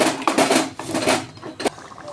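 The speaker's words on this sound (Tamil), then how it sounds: "நல்லா மிக்ஸ் பண்ணிவிடுங்க." A spoon scrapes and clatters in a pan as chana and mashed potato are stirred into masala, giving loud, uneven bursts of scraping with short pauses between strokes.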